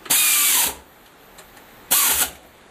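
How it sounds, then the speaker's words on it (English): A power saw cuts 1-inch cold roll steel round stock in a shop, heard as two loud, steady high-pitched whining bursts, each under a second, with a quiet gap between them. "The first thing I'm going to do is try to cut a piece of 1-inch round stock 2 inches long"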